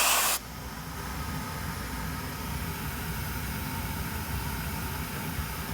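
Rainbow vacuum cleaner, an E-series model beside the newer SRX, running at maximum suction: a steady, loud whooshing airflow roar that holds constant throughout after a brief louder burst at the start, with no talking.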